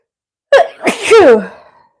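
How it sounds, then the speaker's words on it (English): A single close, sharp sneeze bursts out loudly, then trails off into a brief breathy tail. "Hold on, I gotta sneeze."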